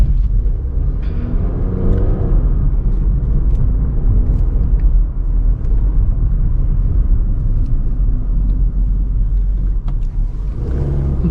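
Engine of a 2020 Honda City BS6 heard from inside the cabin on a test drive, a steady loud low rumble with mild rising revs under throttle throughout.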